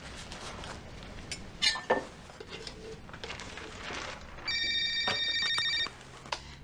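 A telephone rings once in a short, bright electronic trill lasting over a second, after soft background noises and faint chirps.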